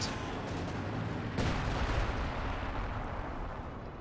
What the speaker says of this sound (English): That howitzer has been an absolutely excellent investment there for Spanky.